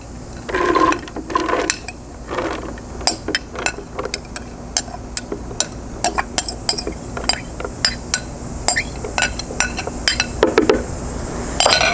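Thawed frozen corn kernels tumble into a blender jar in a home kitchen, giving a run of close, sharp clinks and rattles against the container, with scattered bursts and pauses and no talking.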